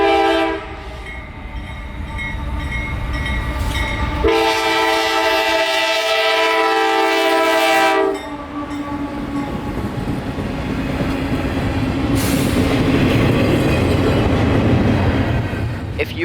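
A CSX freight train carrying Tropicana juice and intermodal cars rolls past at night in Lakeland, Florida, its loud horn blowing in long blasts over the steady rumble and clatter of the passing cars.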